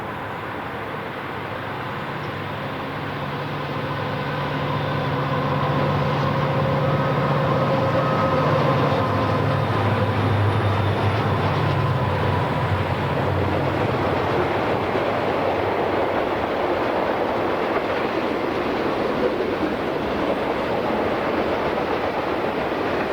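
A Southern Pacific train runs along the California Coastline, a steady rolling rumble that swells after a few seconds and holds loud and continuous with faint wheel and rail noise.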